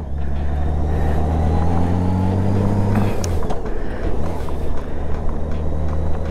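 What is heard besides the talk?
riding a 2008 Honda Goldwing GL1800 motorcycle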